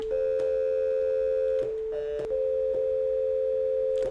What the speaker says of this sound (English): You hear that little fucking ringing sound?